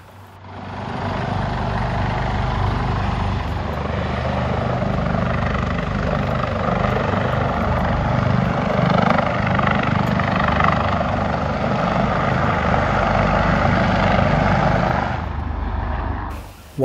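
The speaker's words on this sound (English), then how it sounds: "The helicopter spent a bit of time looking around the headland" A hovering helicopter's heavy rotor thrum and engine whine hold steady and loud for a long stretch over a headland on North Keppel Island, then cut off abruptly near the end.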